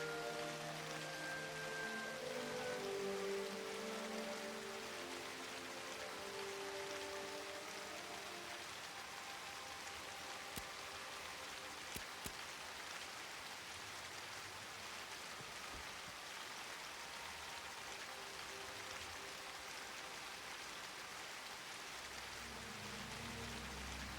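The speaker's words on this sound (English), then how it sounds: "The rain ends when you step inside, but it's still raining." Steady rain falls in a video game, a continuous soft hiss of drops on surfaces with no voices, holding at an even moderate level throughout.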